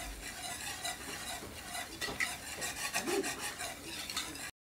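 Batter ingredients for a crispy pizza dough, including olives, vinegar and oil, are stirred together in a bowl, giving a soft, continuous wet scraping and sloshing that is close and fairly quiet.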